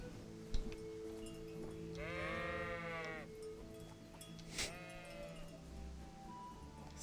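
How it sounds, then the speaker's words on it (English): Sheep bleat in the video game Kingdom Come: Deliverance during a sheep-herding task. Two distinct wavering bleats, one longer and one shorter, rise over a quiet, steady game ambience. "Come here, sheep."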